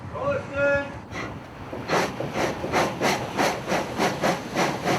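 A steamship's steam engine chugs in a steady series of rhythmic hissing exhaust puffs, roughly two per second. A brief voice comes at the start.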